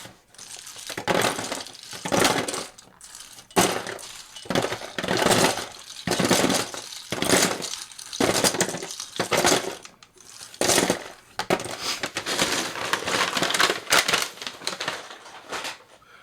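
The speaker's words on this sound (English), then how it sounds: "Just gonna throw these keycaps in a bag for" Plastic keycaps pulled from a Razer BlackWidow Stealth keyboard clatter and rattle as they are tossed into a bag, in repeated bursts of dense clicking and jostling through the whole stretch, close and fairly loud, with no talking.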